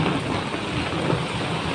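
Heavy rain pours steadily during flooding, a dense, loud, continuous roar of drops hitting surfaces with a low rumble beneath and no break.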